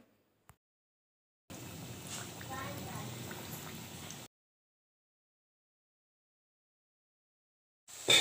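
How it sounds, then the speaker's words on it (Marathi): Donut dough drops into hot oil over a low gas flame and fries with a soft, bubbling sizzle for a few seconds, surrounded by silence. "आता आपण टाकू हे चांगलं करत बारीक गॅसवर तळून घ्यायचे ते"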